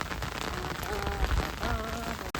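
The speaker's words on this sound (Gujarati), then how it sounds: "ઓહો રાતમાં કેટલો વરસાદ પડે છે" Heavy rain pours down at night in a dense, steady hiss across the whole clip, with a few faint tonal sounds mixed in.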